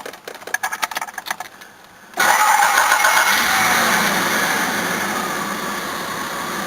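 A cheaper Jaguar car's engine cranks with a rapid, stuttering starter rhythm for about two seconds. It then catches into a loud, steady running roar that gradually settles.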